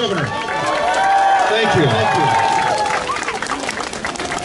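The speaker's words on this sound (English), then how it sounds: "Another one round of applause for the governor." A crowd at a Seattle Stop Asian Hate candlelight rally applauds and cheers for the governor, a dense, steady wash of clapping and shouts with a voice speaking over it.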